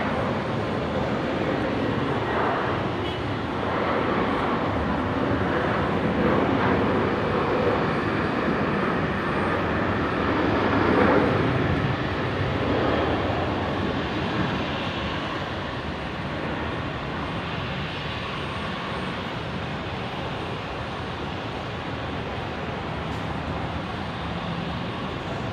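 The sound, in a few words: Qantas airliner departing Brisbane Airport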